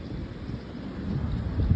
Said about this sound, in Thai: เอาละฝนเริ่มตก ร้องฟ้า